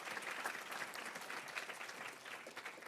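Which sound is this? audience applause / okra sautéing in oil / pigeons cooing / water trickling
audience applause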